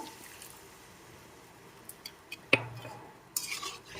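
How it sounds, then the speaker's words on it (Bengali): Raw mango pieces being stirred into mustard paste in a cooking pan, giving soft scraping and squishing strokes with a sharper clink of the utensil against the pan near the middle, fairly quiet and close with no talk. "এবার আমি এর মধ্যে দিয়ে দিচ্ছি আমের গুলো নেড়ে চেড়ে মিশিয়ে নিয়ে"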